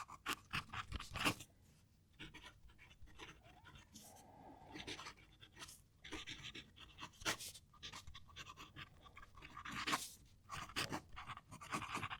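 A fountain pen nib (KC Tokubetsu, Diamine Salted Caramel ink) scratches across paper in faint, irregular strokes, with soft rustling and small taps between them.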